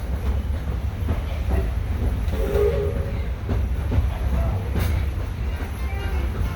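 The Disneyland Railroad excursion train rolling along the rails, a steady rumbling clatter from close aboard, with faint background voices.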